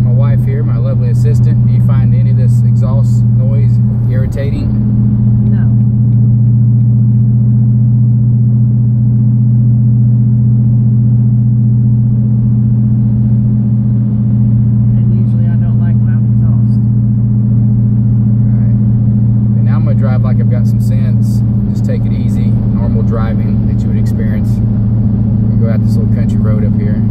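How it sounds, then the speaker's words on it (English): Steady, loud low drone of a 2014 Dodge Challenger R/T six-speed with straight pipes cruising after a full-throttle run, heard from the cabin as a constant rumble while people talk over it. "That was full throttle."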